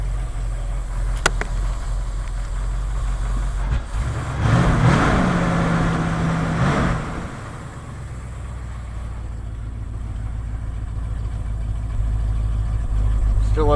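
A worn fuel-injected 302 V8 in a Ford F100 pickup runs with a rough, diesel-like clatter, steady low rumble throughout with a brief louder surge midway, heard up close.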